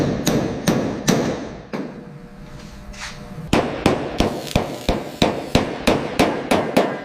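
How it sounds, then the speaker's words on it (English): A hammer strikes the bare metal body of a junk Buick Skylark during restoration, delivering loud, sharp metallic blows in quick bursts, then a steady rapid run of evenly spaced hits after a brief pause. "Listen to the rhythm of the hammer."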